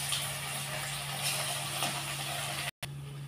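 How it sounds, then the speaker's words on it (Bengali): Chicken pakoras frying in hot oil, a steady dense sizzle with a faint constant hum, cut by a brief silent gap near the end. "তেলটা কিন্তু আমার গরম হয়ে গেছে। এবার আমি এক এক করে পকোড়াগুলো ছেড়ে দেবো।"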